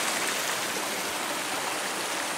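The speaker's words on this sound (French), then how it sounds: "Vraiment là, le ruisseau" A steady, continuous rush of a flowing stream, broad and even throughout with no voices over it.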